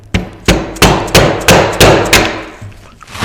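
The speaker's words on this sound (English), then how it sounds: "maybe hit it here better with the hammer" A hammer strikes a brass ring on a Shopsmith caster in a workshop, six sharp metallic blows at a steady, roughly even pace, close and loud, each ringing briefly before the next.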